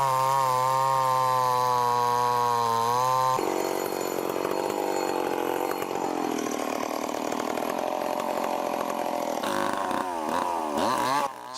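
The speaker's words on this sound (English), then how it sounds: "the MS881 is the largest, most powerful chainsaw in the Stihl product line" A Stihl MS881, the largest and most powerful chainsaw in the Stihl line, cutting wood: a loud, steady high-revving whine that bogs down into a rougher buzzing cut, with revs rising and dropping near the end.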